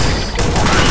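Gunfire in the video game Alien Swarm, a dense, loud burst of rapid shots filling the whole moment with no gaps.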